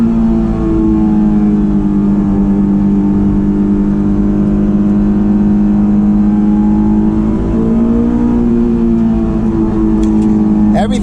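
A stock 2004 Honda S2000 roadster in second gear on a freshly paved road gives a steady, loud in-cabin engine drone from its factory intake and exhaust, the pitch rising slightly partway through.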